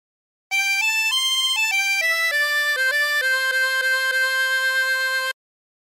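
A harmonica plays a short phrase of the folk tune 'The Colorado Trail', a run of sustained, reedy single notes stepping up and down in pitch, close and clear with no other sound.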